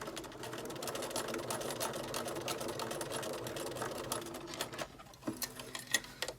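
Sewing machine running a long straight basting stitch at maximum stitch length, a steady quiet whir of rapid needle strokes for several seconds, then slowing into a few separate clicks and taps near the end.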